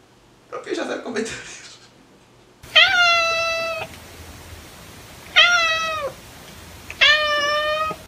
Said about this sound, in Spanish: Y los gatos están todo el día maullando en plan de mamá, mamá.